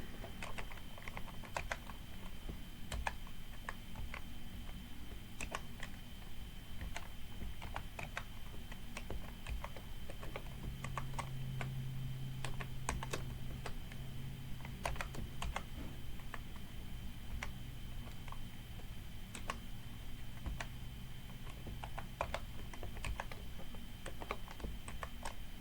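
Steady typing on a computer keyboard during a FreeBSD tutorial session, with continuous close clicking keystrokes in irregular bursts over a low steady hum, no talking.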